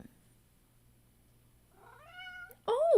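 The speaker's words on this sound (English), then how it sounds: "do you guys hear her little meow?" Pet cat meowing indoors, two close meows, the first soft and rising, the second louder and more insistent, after a quiet stretch.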